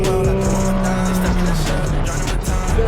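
A Can-Am side-by-side on Yokohama tires racing around a track, its engine droning loud and close with rising and falling revs and a hint of tire squeal.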